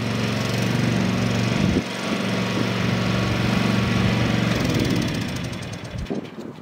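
A small tractor engine runs steadily nearby with a loud, even drone, its pitch dipping briefly twice as the load changes.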